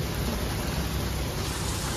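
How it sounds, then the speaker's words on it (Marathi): Heavy rain pours outside a showroom as a steady, dense hiss of falling water, loud and unbroken for the whole two seconds with no voices over it. "बाहेर जोरदार पाऊस पडतोय"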